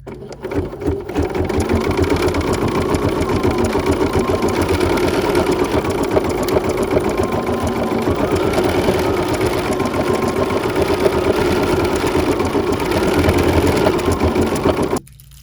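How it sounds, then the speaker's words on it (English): A Bernina embroidery sewing machine stitches out a design, its needle running in a steady, fast mechanical rhythm that holds at constant loudness for about fifteen seconds before stopping abruptly. "now I'm ready to stitch out the I love you part"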